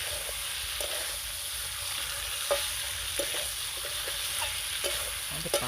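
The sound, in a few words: stir-frying fried potatoes with spices in a pan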